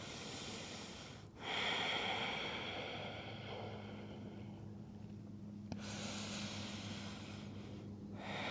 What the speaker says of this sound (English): Take a few rounds of full cleansing breaths here.